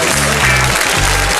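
A game-show studio audience applauds loudly and continuously, with dense clapping and some cheering filling the whole moment.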